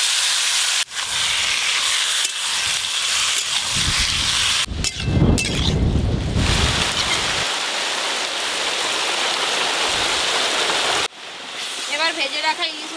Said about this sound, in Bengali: এবার সেদ্ধ করে রাখা কচু শাক দিয়ে দেব